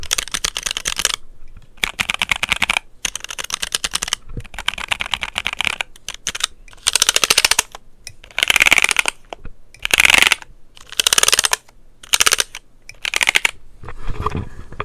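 Fast typing on a NuPhy Air75 keyboard, dense clacky keystrokes in bursts separated by short pauses, close and crisp, with no talking.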